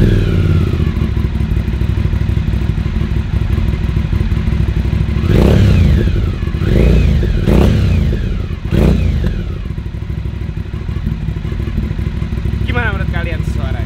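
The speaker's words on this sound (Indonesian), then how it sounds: "mari kita dengarkan keindahan suara V-twin dari Aprilia" An Aprilia Shiver V-twin motorcycle engine idles with a deep, loud, uneven throb, then several sharp revs rise and fall before it settles back to a rumbling idle.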